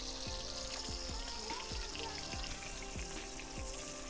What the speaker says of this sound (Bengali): মাছগুলো এখন দেখুন আমার এক পিসে ভাজা হয়েছে